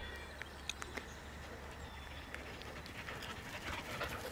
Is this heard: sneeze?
no